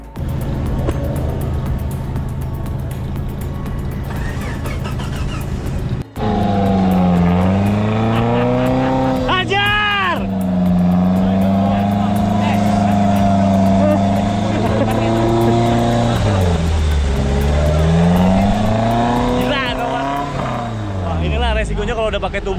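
An off-road car crossing water during an off-road adventure in Lampung, its engine close and loud, revving up and down repeatedly as it pushes through, with a sharp break in the sound early on.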